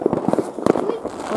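New Year fireworks burst in the night sky, a cluster of distant pops and crackles heard while a person talks nearby.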